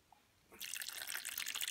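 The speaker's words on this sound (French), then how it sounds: "Donc vous avez au-dessus un petit robinet. Vous tournez. Et l'eau va couler." Water starts flowing from the small tap of a Hot Wheels car wash toy, a soft click followed by a steady close splashing trickle.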